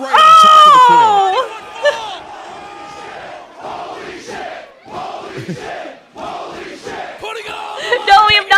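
A crowd roars and screams loudly as a performer leaps from a balcony onto them at a live show; a high sustained yell opens, then cheering and shouts continue with loud bursts near the end.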